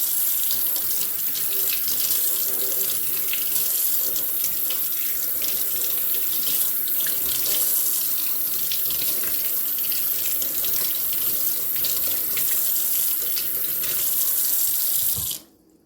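Potatoes are rinsed under a running kitchen faucet, a steady close splashing gush of tap water into the sink that lasts for about fifteen seconds before cutting off abruptly, with no talk.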